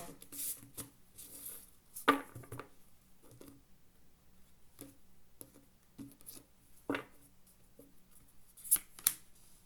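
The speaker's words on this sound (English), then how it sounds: "One more shuffle." Tarot cards being shuffled by hand, a series of brief soft riffles and flicks spaced irregularly, quiet and close with pauses between bursts.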